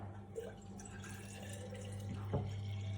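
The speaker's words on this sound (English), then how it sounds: "I'm just going to pour everything back" Homemade red wine vinegar being poured back into its container, a soft trickling liquid sound with faint drips over a steady low background hum, quiet and close.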